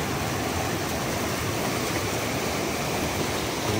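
Steady rushing stream water flowing near a trail bridge in the forest along the Appalachian Trail, a continuous broadband wash, close and fairly loud, with no voices.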